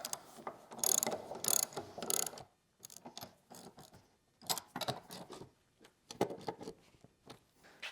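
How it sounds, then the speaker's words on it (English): Bolts being tightened on a Magswitch magnetic power feeder mount with a ratchet wrench give quick runs of clicking ratchet strokes in close, loud bursts separated by short pauses. "Finish tightening these bolts."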